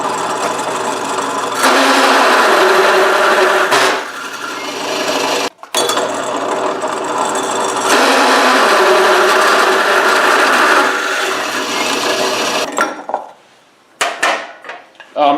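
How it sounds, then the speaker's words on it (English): Milwaukee Hole Dozer hole saw cutting through wood with a loud, continuous grinding whir in two long bursts, briefly stopping between them and winding down at the end with a few short knocks. "In case anybody's wondering what kind of hole saws I use, these work great. They're Milwaukee hole dozers."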